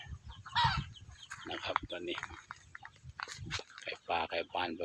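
Red junglefowl and domestic chickens cluck in short bursts at close range, with someone talking quietly over them.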